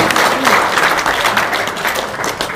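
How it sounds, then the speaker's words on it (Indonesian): Steady applause from a studio audience at an Indonesian talk show fills the space loudly and evenly, with faint voices mixed into the dense clapping throughout. "Tepuk tangan dong untuk cangkrang"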